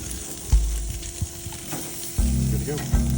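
Salmon sizzles on a grill with a continuous close hiss, with a few low thumps and scraping knocks as the fish is handled.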